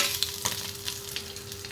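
Eggs fry in hot oil in a pan, making a close, steady sizzle with a few small pops throughout the short stretch.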